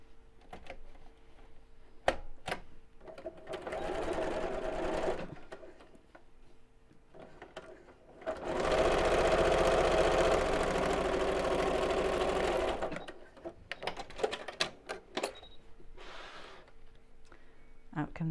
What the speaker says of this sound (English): So line up those edges. And sew straight across.